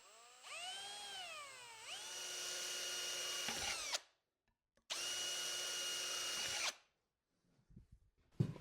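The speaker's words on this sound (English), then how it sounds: "So I'm just drilling a few holes in each lid." A power drill bores holes in jar lids for small hive beetle traps, with two loud whining runs that rise in pitch and then hold steady, separated by silence and followed by faint handling clicks.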